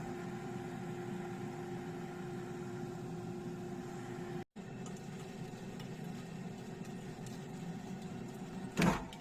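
A steady electric hum with a low droning whir from an air fryer preheating runs throughout, briefly cutting out midway, then ends with a short beep.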